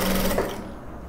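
A sewing machine stitches a zipper into fabric with a fast, steady mechanical whir close by, stopping abruptly after a brief run.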